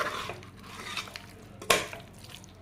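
A spoon stirs chicken into a masala paste for biryani in a pressure cooker, making a short wet scraping churn with a sharp clink against the pot near the end.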